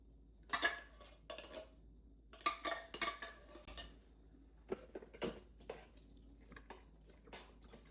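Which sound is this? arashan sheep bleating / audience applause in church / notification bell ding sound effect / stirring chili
stirring chili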